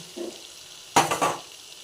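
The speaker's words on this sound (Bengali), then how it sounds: "আমার মশলাটা ভাজা হয়ে গেছে এবারে আমি ভেটকি মাছের কাঁটাগুলো এর মধ্যে" Bhetki fish bones drop into fried spice paste in a pan, giving a brief burst of sizzle and stirring clatter after a quiet moment.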